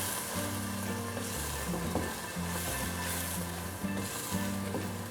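Chili masala frying and being stirred in a pan for a Pakistani mash dal, a constant close sizzle with scattered scraping clicks of the spoon and a low background hum.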